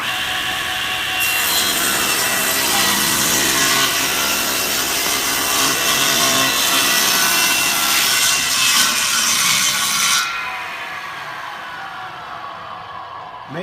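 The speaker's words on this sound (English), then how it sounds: "So I'm going to set this fence at 3 inches and make that cut." A saw set against a fence rips a wooden board, a loud steady cutting whine with rough grinding texture that runs about ten seconds and then fades as the blade winds down.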